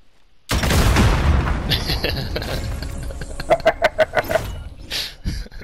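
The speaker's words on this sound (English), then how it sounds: "Go rocket him in the head, man. Drop that rocket right on. him." A rocket slams into a player on an icy cliff in the battle-royale shooter Call of Duty Warzone, a loud booming blast followed by a rattle of gunfire and scattered sharp pops.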